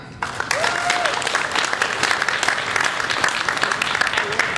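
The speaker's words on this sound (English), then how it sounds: "let's give all of our contestants one big round of applause" An audience at a children's pageant gives the contestants a big round of applause, dense steady clapping that fills the room with a voice briefly audible underneath.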